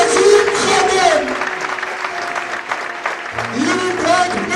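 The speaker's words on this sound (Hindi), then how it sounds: "हालेलुया, भरपूर तालियां" Applause from a church congregation at a married-life event, clapping blended with music and some voices, moderately loud and continuous.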